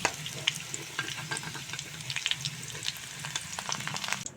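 Soybean chunks frying in the same hot oil just used for potatoes, seasoned with a little turmeric and salt: a steady, bright sizzle with light stirring clicks throughout and no voices.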